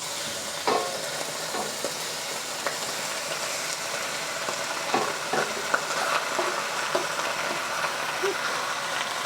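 Pork belly sears in avocado oil in a pan for a Cantonese stir fry, a continuous soft hiss of frying fat close by, broken by scattered small pops and crackles, with no talking.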